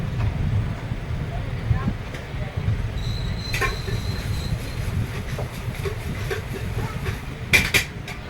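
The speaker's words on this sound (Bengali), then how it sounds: "এক মিনিট মতো দাঁড়ানোর পরই কান্দ্রা জংশন থেকে ট্রেন ছেড়ে দিয়েছে" The Tatanagar–Asansol Express pulls out of Kandra Junction, a steady low rumble of rolling coaches with a few sharp metallic clanks and a faint high tone, heard from aboard the train.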